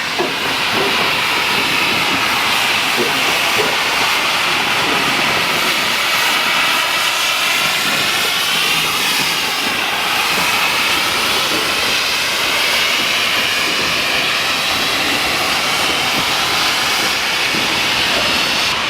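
A heritage train on the Mornington Tourist Railway running in reverse, a loud, steady broadband roar and hiss of movement with rhythmic rumble that holds for the whole stretch without talk.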